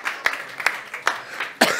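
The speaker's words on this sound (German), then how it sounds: "Boah, super, das ist ein Applaus wert." Four slow, evenly spaced hand claps ring out sharply and fairly close, with only a faint noisy background between them and no talk.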